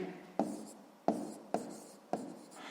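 Pen writing a maths answer on paper in four short scratching strokes, each starting sharply and trailing off, close and quiet with no speech.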